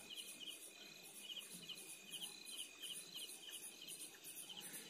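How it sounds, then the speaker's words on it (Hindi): Crickets chirp in the jungle at evening, a dense, continuous pulsing trill repeated in rapid regular bursts, steady and moderately near against a faint low background hush. "और शाम को होती हैं ये क्रिकेट"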